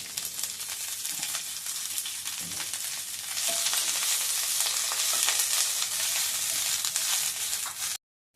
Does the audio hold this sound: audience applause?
no